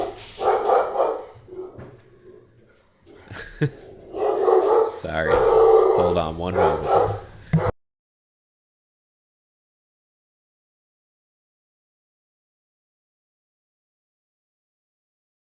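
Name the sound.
dogs barking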